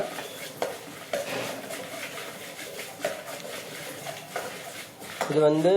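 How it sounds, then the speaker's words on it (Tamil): Lentils and coriander seeds dry-roasting in a pan, stirred with a metal spoon that scrapes and clinks in a regular rhythm, close and fairly loud, with a louder clatter near the end. "பருப்பு கொஞ்சம் கலர் வரப்ப நம்ம இந்த தனியாவை ஆட் பண்ணிக்குவோங்க."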